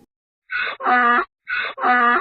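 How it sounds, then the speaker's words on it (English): A donkey brays twice, each bray a rasping two-part hee-haw: a higher wheezy intake followed by a louder, harsh, buzzing exhale, close and clear. "donkey,"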